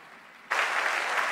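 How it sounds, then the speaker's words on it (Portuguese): Applause from a congregation at a church missions conference bursts in suddenly after a quiet moment, then carries on as dense, steady clapping. "Vamos aplaudir a Deus pela vida do pastor Gaspar"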